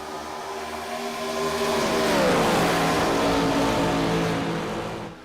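IROC race cars with reduced power rev up slowly on a green-flag restart at Atlanta in a racing video game, a loud rising engine roar with climbing pitch that swells and then eases off.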